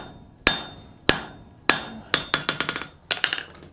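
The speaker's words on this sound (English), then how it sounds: "you're just going to hammer straight down on that portion alone." A hammer strikes metal stock held in a scroll bending fork, ringing blows close and loud: three spaced single hits, then a quick run of lighter taps and a final short cluster.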